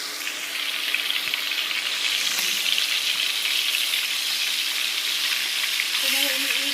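Fish frying in a pan, a steady loud sizzle running throughout with no let-up.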